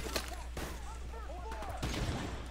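Gunfire in Modern Warfare Remastered, with several sharp, loud shots spread through the moment and a burst near the end, over a low rumble of battle noise and faint warbling chirps.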